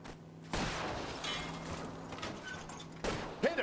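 Gunfire in LA Noire during a car chase, shots aimed at a fleeing car's tires, a dense crackle of shots from a moving vehicle with engine and road noise underneath, ending in a louder burst.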